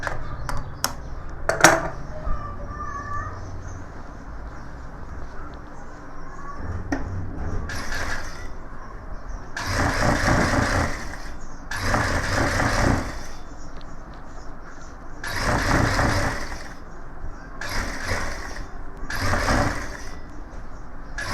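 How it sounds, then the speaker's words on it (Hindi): A sewing machine double-stitching a gents suit in a tailoring class runs in about six short mechanical bursts separated by quieter handling pauses, close and fairly loud. "ये हम डबल सिलाई कर रहे हैं"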